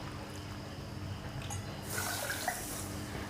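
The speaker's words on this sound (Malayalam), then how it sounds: "1 കപ്പ് പഞ്ചസാരയ്ക്ക് 1 കപ്പ് വെള്ളം ഒഴിക്കുകയാണ്." Water is poured into a pan of sugar for jalebi syrup, a soft trickling splash in a quiet kitchen, brief and fairly faint.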